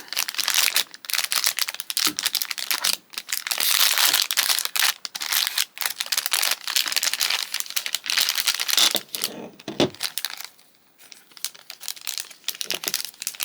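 Continuous crinkling and tearing of plastic packaging as a Craft Easy Tools Eye Snapper is unwrapped, close and fairly loud, with brief pauses and a few sharper rips near the end.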